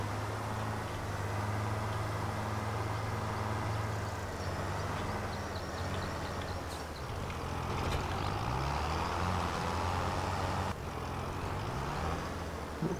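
A tractor engine in Farming Simulator 25 runs steadily for the whole stretch, a low droning hum that shifts pitch as it works, loud and close with no talking.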